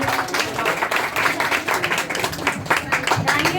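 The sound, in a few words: loud applause for performer Payal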